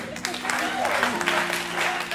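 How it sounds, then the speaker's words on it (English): A crowd claps at a smooth jazz concert featuring a saxophonist and singer. Steady clapping blends with musical tones and crowd noise, and voices are also heard. "Y'all clap."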